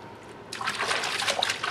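Water splashes and trickles as a bloody canvasback duck skin is washed by hand in soapy dish-soap water, starting abruptly after brief quiet and sloshing steadily up close.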